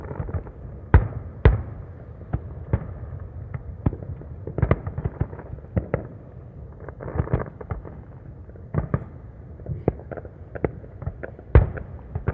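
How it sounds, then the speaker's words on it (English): Fireworks burst in the night sky in a scattered series of sharp, loud cracks and booms at irregular intervals, with a low rumble between the blasts. "Fireworks are so cool."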